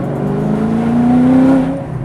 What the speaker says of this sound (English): The exhaust is incredible.